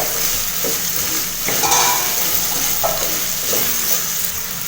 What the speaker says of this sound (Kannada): ಎಣ್ಣೆಯಲ್ಲಿ ಪಡವಲಕಾಯಿ ಚೆನ್ನಾಗಿ ಬೆಂದ್ಕೊಂಡಿದೆ.